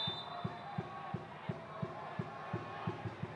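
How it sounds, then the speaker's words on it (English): Albirex Niigata football fans give slow, ironic applause after a yellow card: evenly spaced claps, about three a second, ring out over a steady stadium crowd murmur. "A little bit of ironic applause from the Albirex fans."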